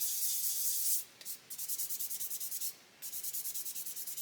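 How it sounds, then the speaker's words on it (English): Bursts of rhythmic back-and-forth sanding on the plastic body of a Pocher 1/8 Lamborghini Aventador LP-700-4 model kit, close and fairly quiet, with short pauses between strokes. "I'm just going to keep sanding until that"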